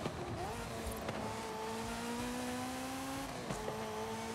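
A Ferrari F40 engine drones in Forza Horizon 5, holding a loud, steady high-revving tone through a gear with a couple of quick shifts, while faint game sounds sit underneath.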